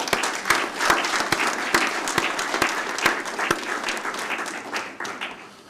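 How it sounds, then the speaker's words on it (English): A university convocation audience applauds its graduates, a lively mass of clapping with sharp individual claps standing out, gradually easing in loudness. "I just want to ask everybody to give a big round of applause to those who"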